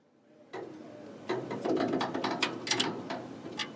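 Flange wheels on the core of an Adkins DTF Inline 800 printer are unscrewed, giving a close, faint run of clicking, ratcheting mechanical sounds that starts after a brief quiet moment.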